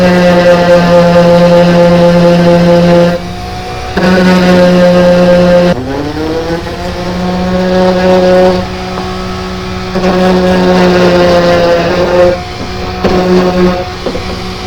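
Orbital sander sanding glue off a wooden box outdoors, a loud motor whine running in several bursts with short stops and a pitch drop between runs.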